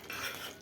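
Chopped onions stirred in a pan, a short scraping, rubbing sound of a utensil against cookware, steady and close for under a second.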